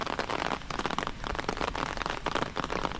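Heavy rain pours on a village, a dense close patter drumming on surfaces in uneven surges with no voices, steady and loud throughout.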